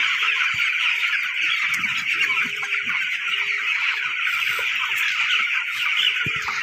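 A flock of chickens clucks and chatters continuously as water is given to them, against a steady hiss, with occasional clanks and soft knocks nearby.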